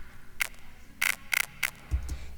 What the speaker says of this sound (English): there is this weird clicky sound on top of the kick